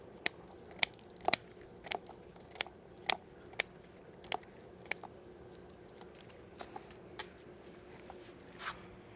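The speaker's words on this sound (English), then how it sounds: "The reason I'm cutting the bay leaf" Fresh Italian bay leaf being snipped with scissors, about a dozen crisp, close clicks at an irregular, fairly quick rhythm against a quiet background.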